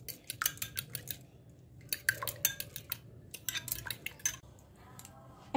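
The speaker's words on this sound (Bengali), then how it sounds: "ডিমটা ফেটিয়ে নেব" Eggs being beaten with a utensil in a bowl, a close rapid series of sharp clicking taps in quick bursts, pausing briefly between runs, with no talking.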